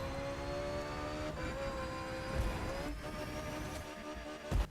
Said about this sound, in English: At least the engine sounds are good.